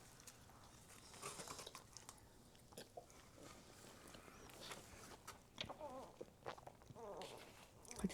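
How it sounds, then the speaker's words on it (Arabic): Close, quiet wet clicks and gulps from a throat-mounted mic as someone eats a cream-filled pastry, with soft swallowing and chewing sounds in irregular bursts. "هتسمعوا صوت بلع ريق عشان المايك في زوري."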